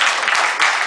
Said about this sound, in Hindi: मेरे लिए तो तालियां बजाओ भाई प्लीज यार।